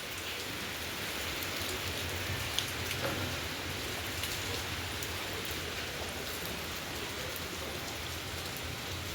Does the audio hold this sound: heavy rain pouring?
yes